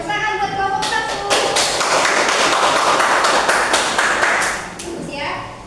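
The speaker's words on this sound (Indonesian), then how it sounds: "Tepuk tangan buat kelompok 1." Classroom applause for a student group presenting, a burst of dense clapping and tapping that swells, holds for several seconds, then fades, with voices speaking over its start and end.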